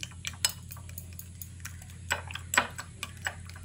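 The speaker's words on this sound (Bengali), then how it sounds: "নুন আর গোলমরিচের গুঁড়োটা দিয়ে ডিমের সঙ্গে ভালো করে ফেটিয়ে নিচ্ছি" Eggs with salt and pepper are whisked in a bowl, giving light, rapid ticking taps of a utensil against the side. The taps are faint and irregular over a low steady background hum.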